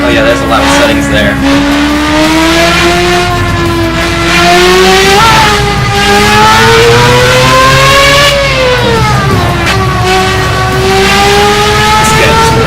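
Race car engine in the Project Cars racing game revving hard and loud, rising and falling in pitch through repeated accelerations over a steady roar, with a voice talking over it.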